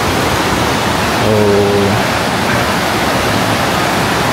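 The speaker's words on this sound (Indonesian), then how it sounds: "Jadi ini dia penampakan air terjun Grojogan Sewu dilihat dari bawah." Grojogan Sewu waterfall in Tawangmangu on the slopes of Mount Lawu, heard from below near a bridge: a steady, loud broadband roar of falling water, with a brief tonal hum and a short exclamation around the middle.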